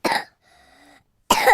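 A child coughs in a cold medicine advert: a harsh cough burst, a short faint tonal pause, then a second loud cough, close and clear.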